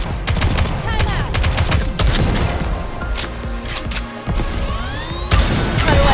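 Rapid gunfire from the video game NIKKE: loud, dense bursts of shots and rattling automatic fire that run almost without break, with metallic ricochet-like whines and short gaps between volleys.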